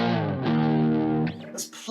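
An electric guitar with light overdrive and little reverb rings out a sustained chord, then a quick change and brief decay, close and loud.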